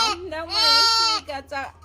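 An orphaned lamb bleats loudly and close, one long wavering cry followed by two shorter ones in quick succession, with no other sound around it.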